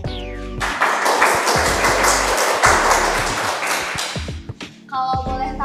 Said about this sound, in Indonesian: Yuk kita beri tepuk tangan yang meriah untuk Bapak Ilham Dhani.